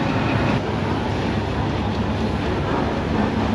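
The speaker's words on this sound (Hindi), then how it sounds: "HPU 28049 के साथ शंटिंग लोकोमोटिव है और रेक प्लेस हो रहा है" A shunting locomotive, HPU 28049, places the rake of the 8 Down Tezgam at platform 3, producing a continuous low diesel rumble with steady railway noise and no talking.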